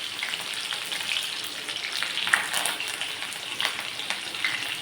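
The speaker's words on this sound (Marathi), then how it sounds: "ह्याला परतून घेऊया छान." Garlic, ginger, onion and green chilli sautéing in hot oil in a pan for veg Maggi, giving a continuous close crackling sizzle with small pops and light stirring.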